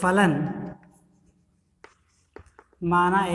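A pen scratches out maths notes on paper in short, faint strokes, heard during a pause between stretches of a man's speech.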